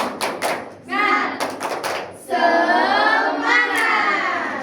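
A primary school class performs a rhythmic spirit clap, sharp hand claps in quick patterned bursts mixed with children's voices chanting and calling out together, loud and close.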